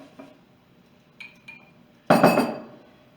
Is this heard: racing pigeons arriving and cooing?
no